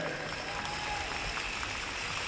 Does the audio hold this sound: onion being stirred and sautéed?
no